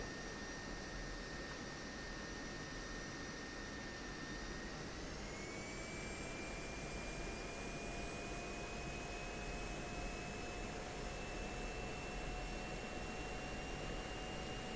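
An F-16 Viper jet engine in the DCS flight simulator drones steadily and loudly, and its whine climbs to a higher pitch about a third of the way through, then holds there with no voices.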